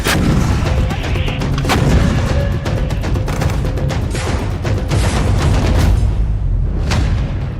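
Heavy blasts and gunfire rumble continuously in a war zone on the Israel–Lebanon border, with sharp cracks and deep booms following one another rapidly over a dense low roar.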